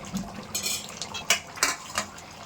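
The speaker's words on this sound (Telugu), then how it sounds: "ఇప్పుడు మామిడికాయ ముక్కలు వేస్తాము" Mango pieces dropped into a pot of Nellore-style fish curry, a few close clinks and scrapes of a metal spoon against the pot in quick succession, with no talk.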